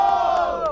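Brief burst of crowd shouting at an outdoor Brazilian rap battle, a loud sustained group yell dropping in pitch as it trails off.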